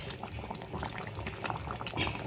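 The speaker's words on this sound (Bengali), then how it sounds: "এখানে চিকেন রান্না হচ্ছে" Chicken curry cooking in a pot, a close, bubbling simmer with soft pops and gurgles that continues evenly throughout.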